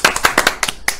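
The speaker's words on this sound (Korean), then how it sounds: "자, 우리 고생한 우리 모두에게 응원의 박수 한번 쳐볼까요?" A children's church group claps together during a Sunday worship service, a short burst of several sharp, uneven handclaps close by with no talking.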